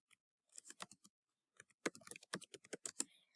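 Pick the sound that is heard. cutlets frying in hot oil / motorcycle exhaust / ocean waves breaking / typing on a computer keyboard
typing on a computer keyboard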